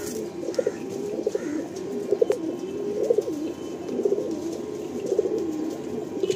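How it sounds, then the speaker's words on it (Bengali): Pigeons in a Kolkata loft coo in repeated soft rolling phrases, close by and fairly loud over a quiet background, with a few faint chirps mixed in. "এরকম ফটকা কালদম পায়রা, মানে পেট কালো পায়রা অনেক আছে।"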